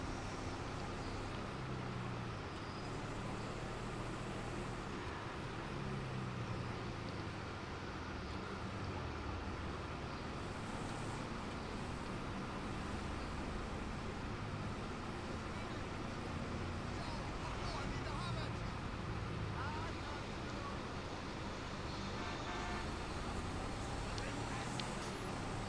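A car driving through the streets of GTA V on the way to a showroom, heard as a steady, continuous engine and road rumble with little variation throughout.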